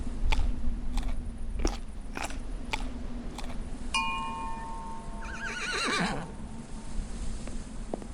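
A horse in the horror game Burnhouse Lane crunches and chews carrots steadily with rhythmic bites, then lets out a clear whinny near the end, close and fairly quiet.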